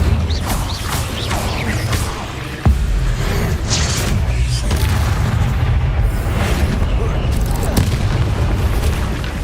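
Hogwarts Legacy's Incendio fire spell bursts with heavy booms and rumbling blasts over dense game noise, one sharp hit partway through, with a voice speaking intermittently.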